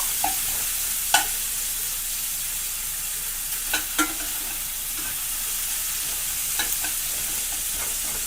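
Onions frying in a pan with a little salt give a steady, moderate sizzle, with a few brief clinks and scrapes of stirring standing out from the hiss.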